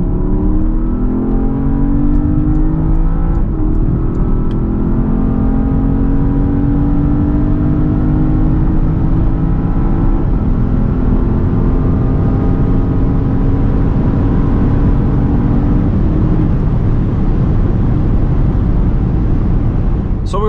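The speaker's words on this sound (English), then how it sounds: "we will now test how fast the car goes 100 to 200" A Porsche Panamera GTS accelerates hard from 100 to 200 km/h, its engine note climbing steadily through the gears in a loud, continuous roar heard from inside the car, with no talking.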